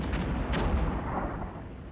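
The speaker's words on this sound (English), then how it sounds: "Like enemy artillery falling." Enemy artillery landing in the Armored Brigade 2 war strategy game, deep rumbling booms and a sharp impact crack near the half-second mark, followed by a long decaying low roar.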